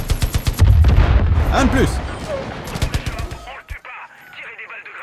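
Rapid bursts of gunfire and booming shots ring out in Far Cry 5, dense and loud at first, then thinning into scattered shots before fading, with someone speaking briefly over the action.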